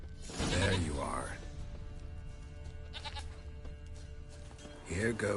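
A goat from The Witcher 3 bleats loudly near the start, gives a fainter call midway, and bleats again at the end, all over a low in-game ambient bed.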